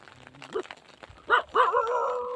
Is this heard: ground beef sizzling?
no